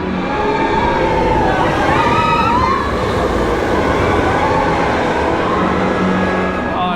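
A roller coaster train at Magic Kingdom rumbling loudly along its track up close, a dense continuous roar with squealing wheel tones rising and falling, and crowd noise mixed underneath.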